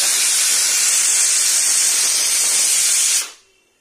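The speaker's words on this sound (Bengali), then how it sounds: "আরেক সিটি আসছে দেখুন" A pressure cooker whistle blasts out steam while Malabar spinach cooks, a loud continuous hiss that holds for about three seconds and then cuts off sharply into quiet.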